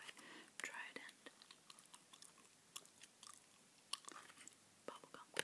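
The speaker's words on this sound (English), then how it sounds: "I'm chewing today, by the way." Bubble gum chewed close to the microphone in an ASMR setting, soft wet smacks and clicks recurring irregularly with quiet whispering underneath.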